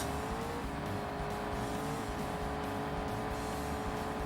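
A race car engine in the racing game Assetto Corsa Competizione, a sustained loud droning roar at steady high revs with slight pitch shifts as it runs on, no talk over it.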